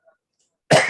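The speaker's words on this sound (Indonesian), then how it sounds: "ini lagi batuk nih" A single loud, close cough bursts out near the end after a near-silent stretch, from a man on a video call.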